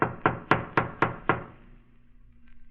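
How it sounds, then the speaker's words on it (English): Six firm knocks on a door in a rapid, even sequence, loud and close, each with a brief hollow ring, followed by a quiet low hum as the sound dies away. "I better knock again."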